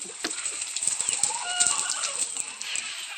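Hens clucking and shuffling inside a backyard chicken coop, with soft wing flaps and scattered scratching, fairly quiet and close, with no talk.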